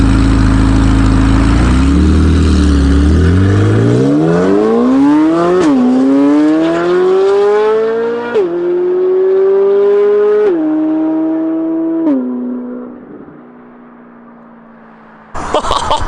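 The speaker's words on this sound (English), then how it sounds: "You still get the crazy good induction noise from the engine too" A Corvette C8 Z06 with equal length headers revs loudly up close, climbing from a deep idle rumble to a high wail with strong induction noise, holding several steps before easing off, then a final sharp burst.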